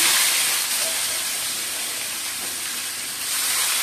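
Sliced onions added to hot oil with fried cumin, cooking for a potol and prawn mash, give a loud, steady broadband sizzle and hiss that holds evenly throughout with no talk.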